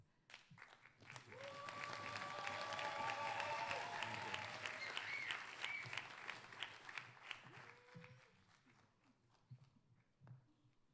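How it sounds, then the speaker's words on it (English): Applause rises from a crowd at a cultural awards ceremony, swelling into a sustained, fairly faint wash of clapping before thinning into scattered claps, with a brief tonal sound and voices mixed in. "That one last applause."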